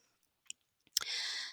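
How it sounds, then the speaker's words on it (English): A computer mouse clicks twice with short, quiet, sharp ticks, then a louder sustained hiss-like noise follows to the end, with no talking. "we're going to click here and see what those exceptions are"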